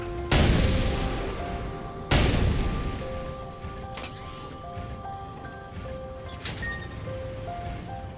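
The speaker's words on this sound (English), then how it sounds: "The tank gun should do the trick." Two heavy booming blasts from a tank gun in the Sand Land video game, each with a long decaying rumble, followed by lighter debris clatter over steady game tones.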